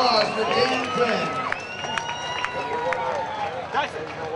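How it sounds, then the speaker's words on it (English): Arena crowd at an MMA fight night applauds and cheers for fighter Dan Quinn after a second-round finish, a steady wash of clapping and crowd noise under an announcer's amplified voice. "Give a round of applause for Dan Quinn."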